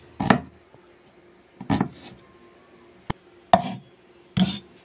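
Knife chopping onions on a cutting board while making a Bengali rui fish curry: five sharp, separate chops spaced about a second apart, close and clear, with no talking.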